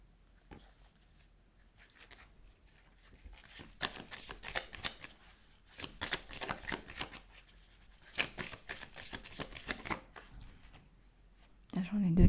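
Tarot cards being shuffled close by, papery riffling bursts growing louder and more rapid across the stretch, while someone speaks softly in French around them.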